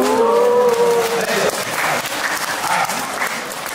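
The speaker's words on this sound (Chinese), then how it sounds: "一看这乐器朋友们响起热烈的掌声" An audience at a live crosstalk (xiangsheng) show in Nanjing applauds warmly, a steady wash of clapping under a brief sustained musical tone at the start.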